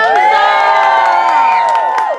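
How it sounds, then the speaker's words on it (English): A live theater audience erupts into sustained loud cheering, whooping and shouting at a Shakespeare-themed show, a dense crowd roar holding steady for about two seconds before tapering off at the end. "When I say you should cheer now, you need to go insane."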